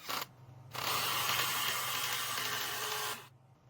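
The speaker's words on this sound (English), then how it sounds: "To unite them, I'm using lag screws." A power driver sinks lag screws to join 4x4 wooden fence posts for a double gate, one steady, loud, close whirring burst of about two and a half seconds between brief pauses.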